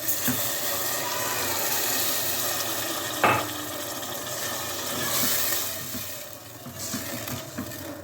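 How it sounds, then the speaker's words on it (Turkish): Water poured from a container into a pot of cooking chickpeas, a steady splashing hiss that runs close and fairly even for several seconds, with a brief stronger burst near the start and light clatter near the end. "Şu şekilde biraz su ekleyeceğim şimdi."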